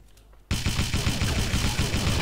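Rapid automatic gunfire in the mobile shooter Pixel Gun begins abruptly after a brief quiet moment, then continues as loud, dense bursts of shots with no speech.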